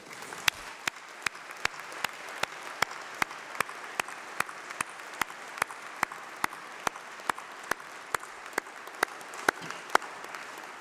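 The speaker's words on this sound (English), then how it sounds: "let's have a really massive round of applause for all those special people, your family, your friends, and your tutors who have supported you" An audience at a university graduation ceremony applauds, a continuous wash of clapping with sharp, evenly spaced louder claps standing out in a steady rhythm throughout.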